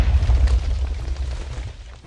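A cluster bomb goes off in a Minecraft zombies mod game, giving a loud, deep rumbling boom at the start that slowly trails off into a low roll.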